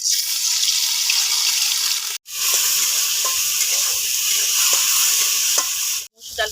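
Red lentils fry in a little oil in a wok, giving a loud, steady, close sizzle with faint stirring scrapes and two brief cutoffs where the sound drops out.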